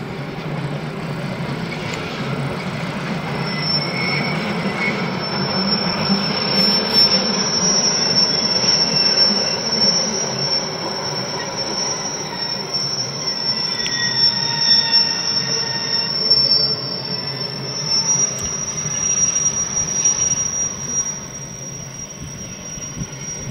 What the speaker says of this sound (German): Ab und zu stört ein Zug die Stille.